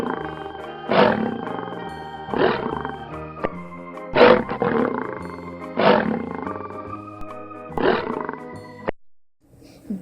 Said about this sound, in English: he heard a big roar from the cave